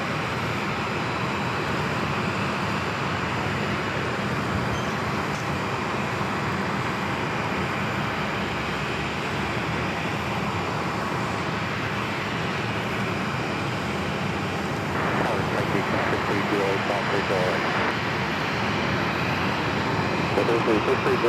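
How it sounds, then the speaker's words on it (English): An American Airlines Airbus A321neo inbound from Boston arrives at Phoenix Sky Harbor, a sustained jet engine roar that swells toward the end, with talking over the airport noise. "this next arrival, American Airlines 2575 coming in from Boston on the A321neo"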